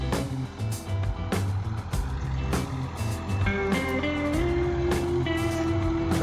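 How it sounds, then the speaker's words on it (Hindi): A black tractor arriving at a village farm field, its engine rumbling steadily and loudly nearby with rising tones as it works, and short sharp knocks or clanks through the running noise. "ट्रैक्टर अब आया।"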